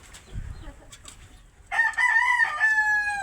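A rooster crows loudly and close in the middle of a farm field, a long harmonic call after a few quieter scattered sounds and faint background noise.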